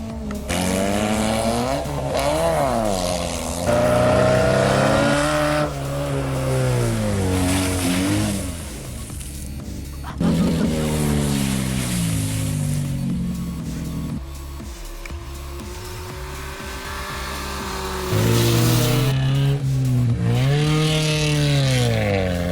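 Cars race hard around a gymkhana course, engines revving and rising in pitch through repeated sweeps, with tire squeal between bursts; loud and close, the runs come one after another with brief dips between.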